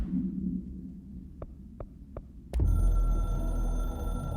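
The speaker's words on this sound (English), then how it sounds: "I can hear the hotline no. ringing in my dreams, constantly ringing." Hotline telephone in the video game Control rings in three short, evenly spaced chirps over a low hum, then a loud, dense burst of game sound takes over.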